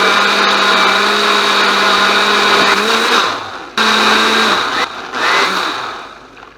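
A blender whirs loudly and steadily, its motor pitch dipping and briefly cutting out a couple of times as it churns thick banana contents.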